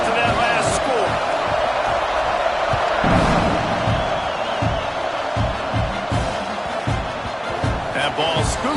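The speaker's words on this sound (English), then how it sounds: "this crowd is buzzing after that last score" A packed football stadium crowd roars and buzzes steadily after a score in the College Football 25 video game, a dense wash of cheering with scattered thumps, while a commentator talks over it.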